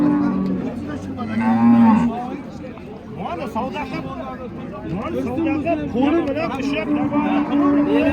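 Cattle moo loudly and repeatedly, long drawn-out lowing calls, while a crowd of people chatters in the background at a livestock market.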